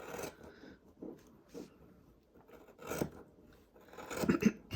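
Scissors snip through excess quilt backing fabric on a white poinsettia Santa project, giving soft intermittent cuts and rasps, fairly close and quiet, with a busier run of cuts near the end.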